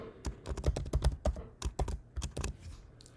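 Fingers type a name on a computer keyboard in a quick, irregular run of close, crisp key clicks lasting a few seconds, heard alone without voices.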